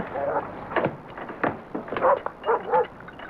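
A stray dog gives a few short barks and yips mixed with whimpering, moderately close, in a short sequence of sharp bursts.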